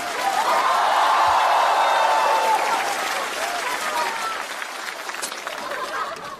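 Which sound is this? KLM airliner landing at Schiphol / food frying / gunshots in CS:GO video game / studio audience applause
studio audience applause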